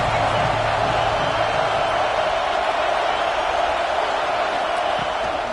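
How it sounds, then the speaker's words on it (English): A dense, roaring college football stadium crowd at Penn State's Happy Valley on third down produces a constant wall of noise, loud and unbroken throughout. "Here comes the noise from this big crowd in Happy Valley on 3rd down"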